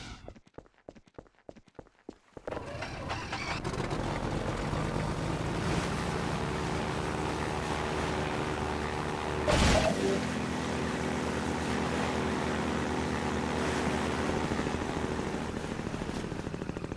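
The airboat from the Half-Life 2 video game roars with a loud, constant engine drone after a few seconds of sparse clicks, with one brief heavy thump midway through the run.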